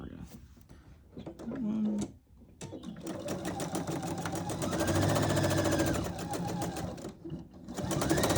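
Sewing machine stitching quilt pieces straight over pins, a steady rapid mechanical whir running in bursts with brief pauses, close and fairly loud, with a voice talking over it at points.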